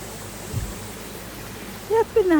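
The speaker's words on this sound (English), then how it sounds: "I'm at the top of one of the waterfalls" Waterfall at Rainbow Springs State Park, Florida, heard from the top of the falls as a faint, steady rush of flowing water, with a person starting to speak briefly near the end.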